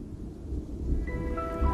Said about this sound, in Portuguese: As tempestades à distância têm crescido já há algum tempo.